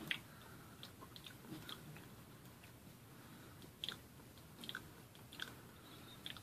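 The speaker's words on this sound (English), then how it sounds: "Just try to chew it." Someone chews a ghost pepper gumball with close, wet squishing and crunchy bites, irregular chomps that spike sharply at intervals over a quiet background.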